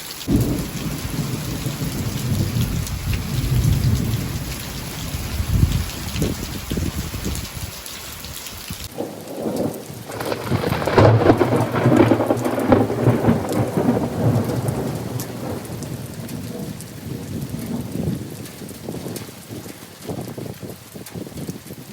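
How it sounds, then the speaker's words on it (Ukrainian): Heavy rain pours steadily during a thunderstorm in the Kharkiv region, with deep rumbling thunder rolling underneath; the downpour is loud and close, shifting in character partway through as the thunder swells. "То посуха, то кожного дня дощить і дощить, ще й гримить."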